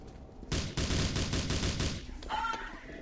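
A burst of rapid automatic gunfire from the AR15 Royal Dragon rifle in the CF Mobile shooter game rattles off at close range for about a second and a half, loud and dense, then gives way to quieter game sounds.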